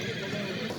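At a horse market in Nookat, a horse gives a brief close neigh, with a hint of nearby voices behind it.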